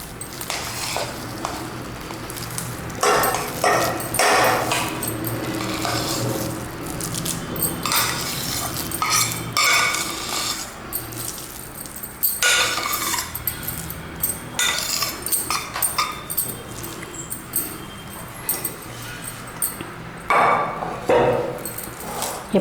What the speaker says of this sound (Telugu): వేరే బౌల్లోకి ఈ రైస్ని మొత్తం వేసేసుకుంటున్నాను